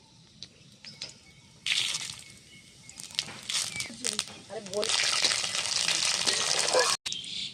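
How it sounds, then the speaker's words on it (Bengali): Panch phoron, dry red chilli and bay leaf frying in hot oil for khichuri crackle and hiss in close bursts that swell into a loud sizzle, with a person talking nearby. "ফোড়ন ভাজা ভাজা হয়ে গেছে"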